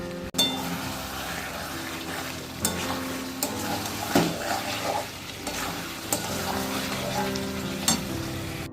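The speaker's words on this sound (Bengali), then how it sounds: "মাংস কষানো হচ্ছে" Meat braising (kosha) in a pan in a home kitchen gives off a continuous close hiss and sizzle, broken by scattered scraping and clinking from a stirring utensil.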